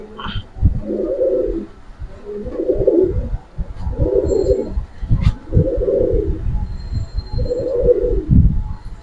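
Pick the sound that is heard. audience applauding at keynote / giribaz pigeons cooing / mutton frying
giribaz pigeons cooing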